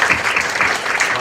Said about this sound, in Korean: 나를 위해서 격려의 박수 우리 한번 쳐줄까요?